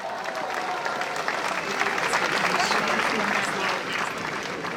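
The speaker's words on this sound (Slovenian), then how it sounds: "En aplavz!" Crowd applause at a pro-life march in Ljubljana, a steady, fairly loud outdoor wash of clapping that swells slightly midway, with voices mixed in underneath.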